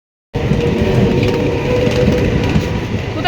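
At Lakshmipur railway station a train rolls in after a moment of silence, sending up a loud, close rumble and clattering rattle that stays strong for about three seconds.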